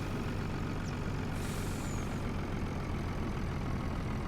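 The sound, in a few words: truck engine left running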